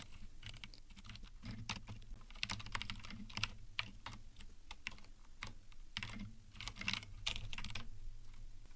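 Steady, rapid clicking of a computer keyboard as code is typed, with dense irregular keystrokes close to the mic and quiet pauses, no talking.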